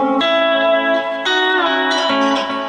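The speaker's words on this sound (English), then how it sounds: "Now there's a slide out." A lap steel guitar slide out: sustained steel-bar notes that glide down in pitch as each phrase ends, three or four slurred note changes, clear and close with no talking.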